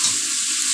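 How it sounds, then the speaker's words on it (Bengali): Prawns fry in hot oil and give off water, producing a brief, loud, continuous hissing sizzle close by. "চিংড়ি মাছ ভাজতে গেলে প্রচুর জল বেরোয়"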